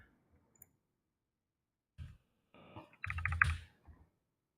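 A few short bursts of computer keyboard typing during a coding session, sparse and quiet with gaps of silence between, ending in a louder flurry of keystrokes.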